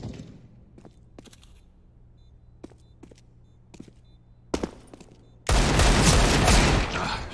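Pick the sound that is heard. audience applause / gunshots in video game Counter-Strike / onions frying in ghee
gunshots in video game Counter-Strike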